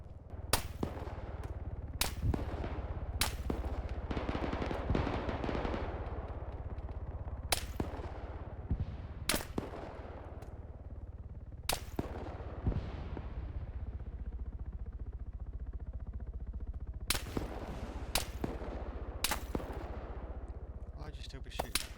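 Gunfire in ARMA 3 during a King of the Hill match, with AK-74 shots among it: loud sharp cracks, single and in short bursts, fired irregularly over a steady low rumble of background noise.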